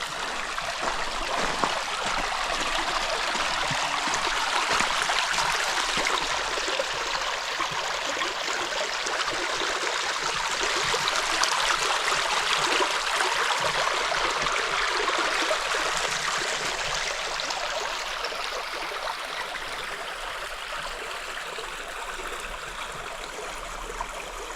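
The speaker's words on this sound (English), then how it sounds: "Yeah, the creek is low." Baird Creek at low water flows steadily along a park greenway trail, a continuous close rushing and trickling babble that holds at an even, fairly loud level throughout, with no voices.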